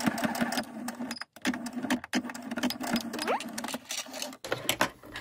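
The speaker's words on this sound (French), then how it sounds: "Je vais venir faire une couture ici." Sewing machine stitching a seam on a coin purse, running steadily and close by with a continuous mechanical whir, with several brief stops along the way.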